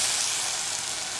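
An egg frying in a pan, giving a steady, close, bright sizzle that stays even throughout the brief moment.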